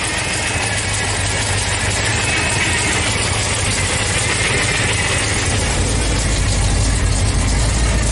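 An engine fitted with twin Eaton M90 superchargers runs steadily right after its first start, a loud, close, continuous rumbling idle with a whining drone and no talk over it.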